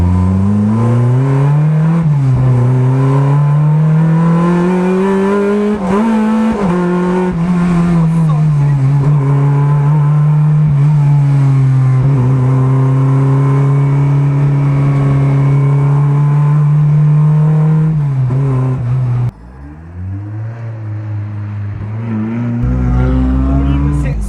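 Alpine A110 sports car with a sequential gearbox, its engine droning loud and close with repeated revving swells and pitch rises, then a sudden drop near the end before climbing again.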